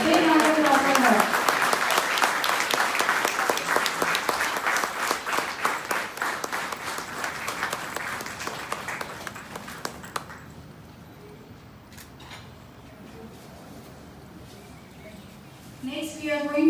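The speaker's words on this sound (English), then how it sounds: "A big round of applause for her" An audience at a club event applauds in a dense burst of clapping that gradually thins and fades over about ten seconds, leaving scattered claps and faint room noise.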